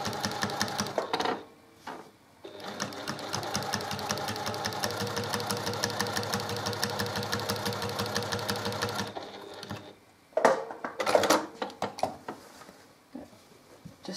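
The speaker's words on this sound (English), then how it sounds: "let the walking foot and your machine do its job of taking the fabric through" A sewing machine fitted with a walking foot stitches quilt fabric in a long, rapid, even mechanical chatter lasting several seconds, bracketed by brief pauses, short bursts and clicks near the end.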